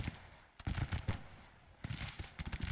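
Ragged volleys of musket fire from Civil War troops at Glorieta Pass, sounding as two dense bursts of overlapping cracks with a lull between them, moderately loud against a low battlefield rumble.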